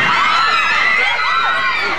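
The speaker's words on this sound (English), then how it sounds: "You can hear the hysteric screams of terrified passengers" Terrified passengers aboard a crippled cruise ship in a storm at sea scream hysterically, a dense, continuous wall of many high-pitched shrieking voices sustained loudly throughout.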